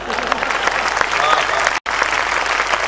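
Loud, dense applause from a large crowd at a Hindi patriotic poetry recital, steady throughout with a brief cut near the end.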